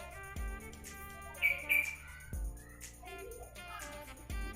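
A young sogok ontong songbird gives a couple of brief, thin chirps close by, rising over a quiet background with a few soft knocks and rustles.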